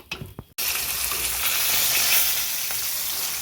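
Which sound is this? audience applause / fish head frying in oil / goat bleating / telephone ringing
fish head frying in oil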